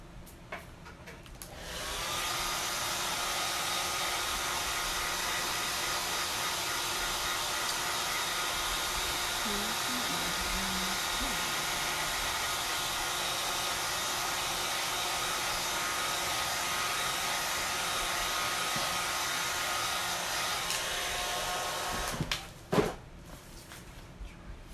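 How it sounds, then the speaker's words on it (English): A hair dryer blows steadily and fairly loud for over twenty seconds as it is used to dry hair, then cuts off abruptly with a brief clunk near the end. "Blow dry this."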